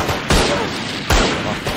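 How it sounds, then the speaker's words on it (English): Rapid automatic gunfire from the shooter game Valorant comes in two loud, close bursts separated by a short gap. "Why does that gun shoot so fast?"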